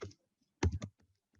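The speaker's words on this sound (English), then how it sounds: "And now I can start to type in what is the text I want" Close, distinct clicks from a computer keyboard come in two short bursts, several keystrokes each, with a quiet gap between them and a few faint taps afterward.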